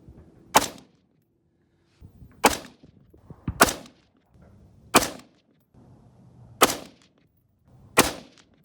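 Rifle shots fired while zeroing the optic on a defensive rifle, six loud sharp reports spaced about a second or more apart, each ringing out alone over near silence.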